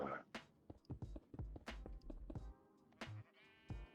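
Sheep in the video game Minecraft bleat repeatedly in short, close bursts, with a few game clicks and shearing sounds between the calls.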